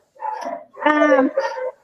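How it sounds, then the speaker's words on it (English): Young rescue puppies let out three close, loud barks and yips in quick succession, with short whimpering edges, alone without talk. "now these puppies are young and they're kind of still doing stupid things"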